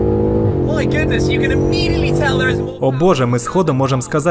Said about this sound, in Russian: Сбрасываем передачу, жмем газ в пол.